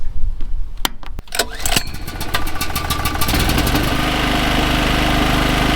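A portable generator's engine is pulled over several times with sharp bursts, catches, then settles into a loud, steady running drone, close by with no talk.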